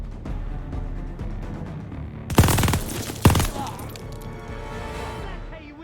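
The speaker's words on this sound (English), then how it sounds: "I couldn't hear you over the sound of my machine gun" Machine gun fire in the video game Call of Duty: Vanguard comes as two loud, sharp bursts that stand out over steady in-game background noise and mixed sounds.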